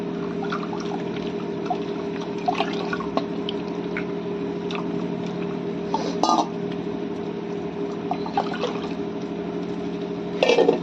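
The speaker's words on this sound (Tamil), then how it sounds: "கொஞ்சம் தண்ணி அலசி ஊற்றிக்கலாம்." Water pours and sloshes into a pot of dry fish curry with ground paste, with light clinks of metal and occasional splashes over a steady background hum.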